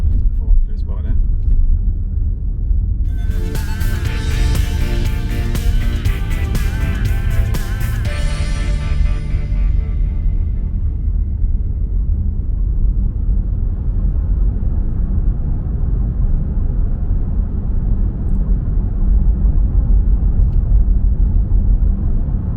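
A car travelling at reduced speed through the undersea Oslofjord tunnel, a steady loud low rumble throughout, with a brighter roaring swell in the first half that fades back into the drone.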